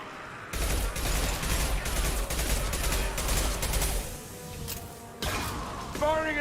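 Video game gunfire in Mass Effect 3, an impact shot amid a dense, loud barrage of weapon fire that drops briefly before bursting back, with voices talking over the action.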